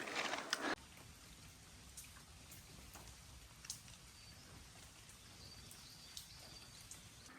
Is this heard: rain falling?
yes